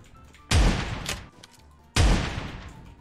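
Two heavy, booming gunshot blasts from an M60 machine gun in a video game, each a loud close crack with a rumbling tail, spaced about a second and a half apart.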